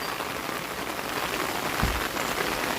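Steady rain patters on surfaces, a dense, even hiss with a brief low thump partway through.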